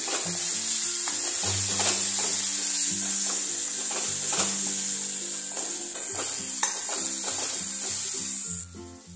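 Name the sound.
masala paste frying in oil until the oil separates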